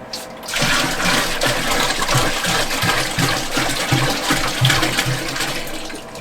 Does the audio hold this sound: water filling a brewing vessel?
yes